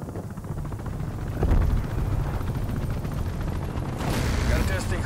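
Attack helicopter in the Call of Duty Black Ops Cold War game on the Nuketown map, a steady low rotor rumble with bursts of gunfire and explosions layered over it, loud and continuous.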